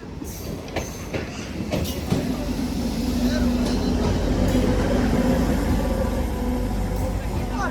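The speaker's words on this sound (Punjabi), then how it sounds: "ਦੌੜ ਗਈ ਟ੍ਰੇਨ ਦੌੜ ਗਈ" A departing train rumbles steadily nearby with continuous low mechanical roar and faint clacking, while voices shout and talk over it.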